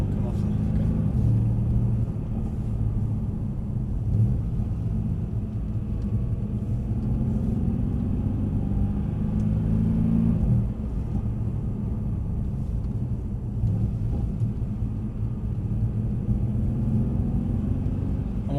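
A Mercedes C63 AMG lapping a track circuit, its engine a steady, low, continuous rumble heard from inside the cabin beneath ongoing conversation.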